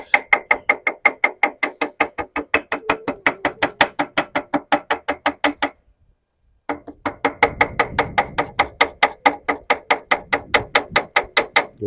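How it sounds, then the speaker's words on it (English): Rapid, evenly spaced hammer blows ringing on metal while repairing a 1926 antique car water pump, a long run of sharp strikes, a brief pause, then another steady burst of hammering. "the simplest way to do that is just take a hammer"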